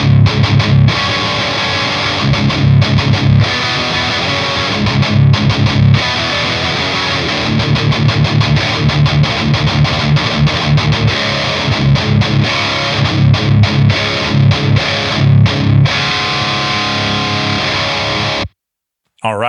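Electric guitar played through a Revv G4 distortion pedal with the gain cranked and aggression mode on red, a loud, thick, saturated tone of chugging chords and riffs that runs continuously, then cuts off near the end.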